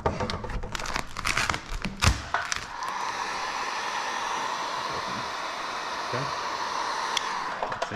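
A heat gun blows a steady hiss of hot air onto vinyl wrap film, with crinkling and rustling of the film and some handling noise at the start, fairly close and continuous.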